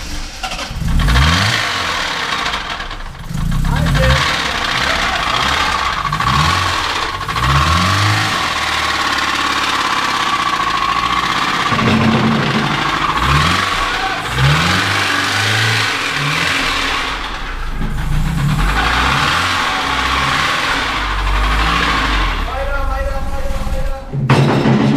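A BMW E36 with its M43B18 four-cylinder engine running rough and being revved in repeated rising bursts, loud and close, with a sputter and stall near the end while people talk over it.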